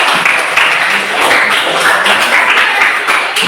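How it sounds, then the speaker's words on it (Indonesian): A group applauds steadily, dense clapping filling the whole stretch at an even, loud level. "Oke, bagus. Tepuk tangan semuanya."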